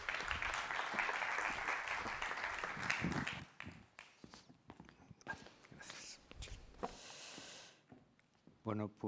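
Applause for a speaker at a technology forum in Valencia, dense clapping for about three seconds that thins out into scattered claps, footsteps and murmurs, then a brief voice near the end.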